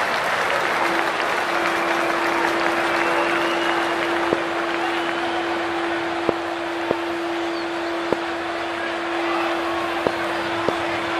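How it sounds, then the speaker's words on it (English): A packed crowd at a women's T20 cricket match between India and Australia, from the video game Cricket 24, applauds and cheers in a steady, dense roar with a held tone and a few sharp clicks over it. "already the crowd is up and about"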